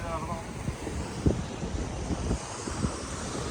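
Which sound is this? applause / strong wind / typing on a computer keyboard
strong wind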